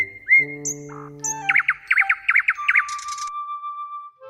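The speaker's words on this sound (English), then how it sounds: "The nightingale sang so sweetly that the emperor had tears in his eyes." Nightingale song as a sound effect in a children's story, with a series of quick rising whistled trills and repeated chirps, clear and close, heard alone without any talk.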